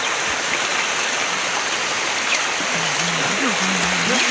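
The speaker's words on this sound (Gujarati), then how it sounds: "તમે જોઈ શકો છો ચારે કોરા વરસાદ હાહાકાર મચાયો છે" Heavy monsoon rain pours down in a flooded village lane in Gujarat, with water rushing and streaming steadily throughout, a dense continuous wash of rain and flow; a low tonal hum drifts in near the end.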